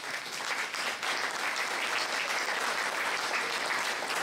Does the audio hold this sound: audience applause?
yes